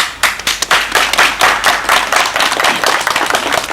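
A crowd claps hands at a water well groundbreaking event, dense overlapping claps starting in scattered bursts then building into steady, loud applause close by.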